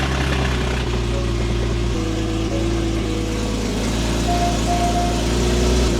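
Porsche GT4 engine from a totaled car idles steadily nearby, a low, even hum with a faint whine running over it.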